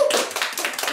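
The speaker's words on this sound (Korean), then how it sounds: "박수 시작!" A small group claps hands together at a board game session, a dense scatter of bright overlapping claps lasting about a second, close and fairly loud.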